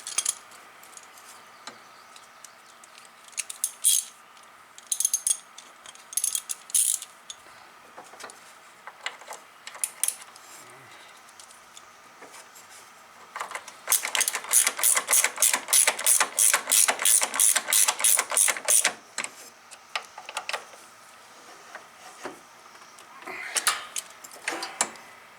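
A ratchet wrench works on a Toro LX425 lawn tractor during a drive belt replacement, giving short bursts of sharp clicking and then a long, fast run of loud ratcheting clicks. Quieter mechanical rattles fill the gaps.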